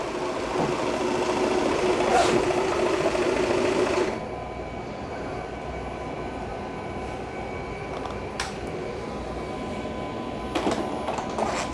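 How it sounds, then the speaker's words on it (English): Shark Matrix robot vacuum backing into its dock, a steady mechanical whir and hum that drops to a quieter drone partway through, with a few faint clicks and bumps near the end. "when it's all done, it's going to go back and dock itself"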